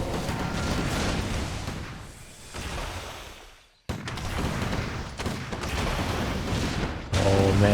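Mortar teams in a Warcraft III match firing into a siege, dense repeated thumps and blasts piling over a steady battle din, with a brief drop near the middle, under continuous talk.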